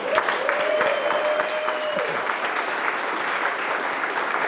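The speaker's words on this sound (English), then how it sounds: "Let's have another round of applause for the library" An audience applauds the library at an evening civic event with steady, dense clapping, loud and continuous throughout, with a brief whistle-like tone early on.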